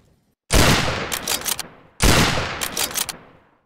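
Two loud volleys of gunfire in Garry's Mod Trouble in Terrorist Town, each a sharp crack followed by a few quick trailing shots, isolated against near silence.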